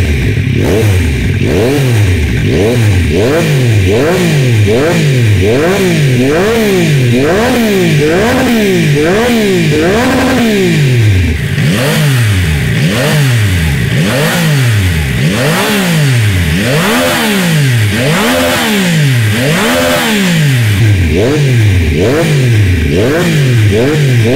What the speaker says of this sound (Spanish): vamos a ver qué tal suena con el escape de serie